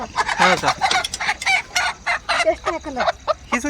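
Free-range village hens, the white country breed that perches in trees, cluck and call repeatedly close by in an outdoor yard, a busy run of short squawks and chatter filling the whole stretch.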